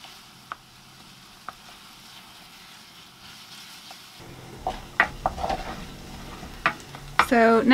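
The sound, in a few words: onions and garlic frying in butter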